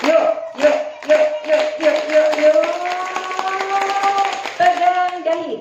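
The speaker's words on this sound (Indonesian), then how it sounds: "Coba kalau saya seperti ini, kita tepuk satu yuk" An audience claps in unison to a leader's hand rhythm, sharp together claps at a steady beat while a voice talks and sings over them.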